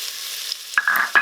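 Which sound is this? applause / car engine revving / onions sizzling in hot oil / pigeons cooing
onions sizzling in hot oil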